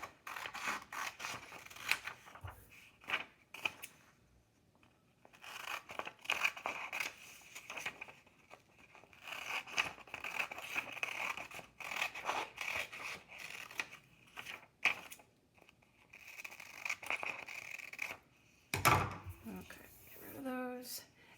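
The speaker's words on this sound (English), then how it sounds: "We're going to cut on these dotted lines right here." Scissors snip through paper along dotted lines in a run of crisp, irregular cuts close by, with short gaps and some handling rustle, then a brief louder clatter near the end.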